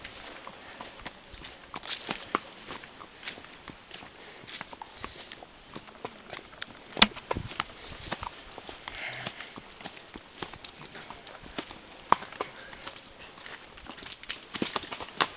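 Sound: horse hooves clip-clopping

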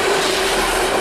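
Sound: coal train passing on rails

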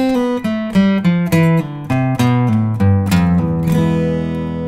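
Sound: guitar line played at slow tempo, song lesson

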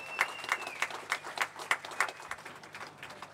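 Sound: audience applause for tango contest singers

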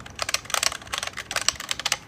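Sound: typing on Signo Pegasu KB-739 semi-mechanical keyboard

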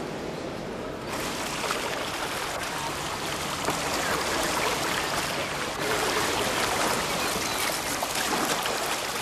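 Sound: Danube river water flowing

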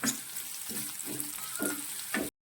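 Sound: ginger and garlic sautéing in a pan

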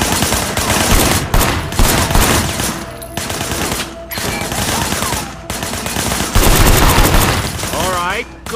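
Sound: gunshots fired at objects in video game Sleeping Dogs

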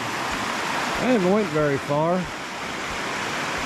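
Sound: rough creek water rushing

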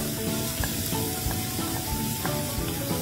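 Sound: onion sautéing in oil

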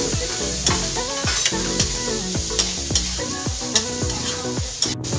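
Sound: frying vegetables with pulao masala

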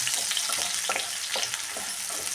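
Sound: onions frying in a pan for egg garlic chitranna

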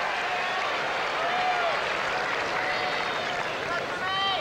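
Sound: tennis crowd applauding emotionally at U.S. Open

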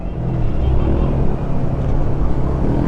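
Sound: Bristol Assassin R400 motorcycle engine while riding

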